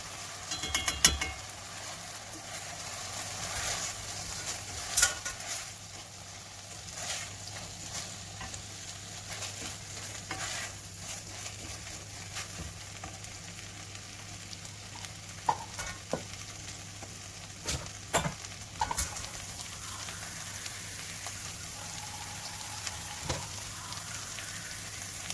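Basmati rice frying with tomato paste in a pan, a soft continuous sizzle with scattered spoon scrapes and clicks as it is stirred, heard close and fairly quiet.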